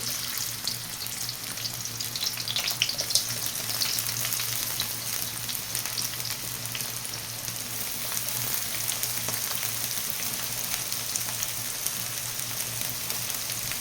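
Onions fry in a pan for a dried lotte fish bhuna with a constant, even sizzle, moderately quiet and unbroken, with a low steady hum beneath it.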